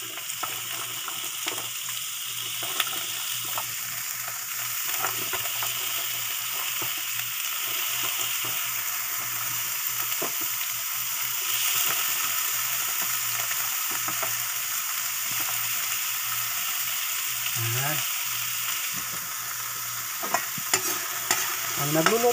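Potato and carrot pieces fry together in a pan, with a soft, steady sizzle under repeated spatula stirs and scrapes. It stays fairly quiet throughout, with a few sharper clinks near the end and no voices.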